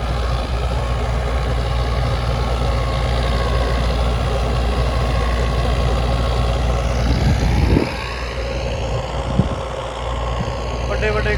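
A New Holland 5500 tractor engine roars loudly and continuously close by, pulling a seven-foot super seeder, a heavy droning rumble that drops slightly in level near the end.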